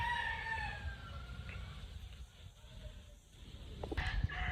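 Hens and a rooster at a backyard farm in front of a house, faint crowing and soft clucking over a steady low rumble of ambient noise, with a few sharper bird calls near the end.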